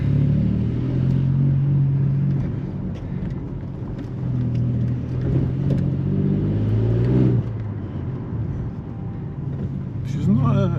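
A VW Up GTI with a 1-litre TSI engine and straight-pipe dual exhaust rumbles loudly and steadily, the engine note swelling and revving up near the end as the wheels spin.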